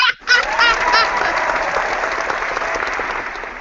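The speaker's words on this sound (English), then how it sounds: "You got a round of applause." A round of applause at a podcast recording, dense steady clapping and a few whoops from a small crowd, starting suddenly and continuing fairly loud throughout.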